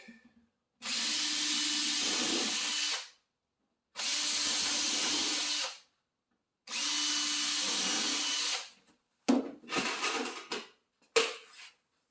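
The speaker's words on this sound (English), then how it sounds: "I've got a drill countersink." A power drill with a countersink bit whirs in three steady bursts of a few seconds each, followed by shorter scraping, grinding sounds of the bit biting into wood during cabinet drawer-track installation.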